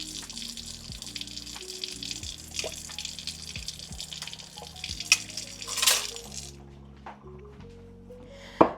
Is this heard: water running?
yes